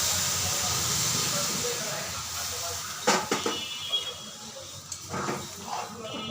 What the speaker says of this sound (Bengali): এখন এর মধ্যে দিয়ে দেবো গরম জল এই গরম জলটা দিয়ে দেবো এখন